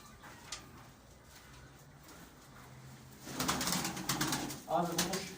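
Pigeons coo softly in low, throaty murmurs against a rustling background, growing louder and busier toward the end.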